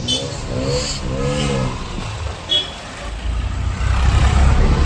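Heavy road traffic in Kalawad, with cars and trucks passing and engines revving nearby. A voice is heard early on under a steady drone, and a louder low rumble of a passing vehicle builds toward the end.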